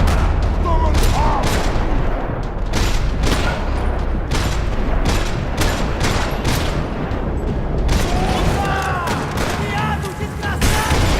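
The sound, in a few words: gunfire in a parking lot in the video game Max Payne 3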